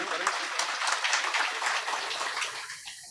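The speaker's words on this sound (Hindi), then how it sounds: "आप ताली बजाकर अनुमोदन प्रदान करें" Audience applause at a Ram Katha devotional gathering, a dense wash of many hands clapping steadily for about three seconds before thinning out at the end.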